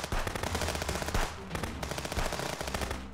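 Rapid, evenly spaced gunshots ring out in the Contraband Police game during an attack, a loud close string of firing with a brief pause partway through.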